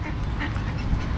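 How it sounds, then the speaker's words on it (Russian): Ducks quacking on a park pond, a busy overlapping chatter of quacks close by under people talking, with a steady outdoor background. "Видишь, они крякают, просят у тебя."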